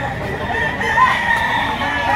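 A rooster at a busy morning chicken market in Lipa, Batangas lets out one loud, sustained crow, close and strong over a low murmur of market noise.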